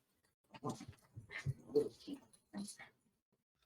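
Puppies whimper and yip in short, soft bursts during a tabletop roleplaying game session, fairly faint and close, with voices murmuring around them.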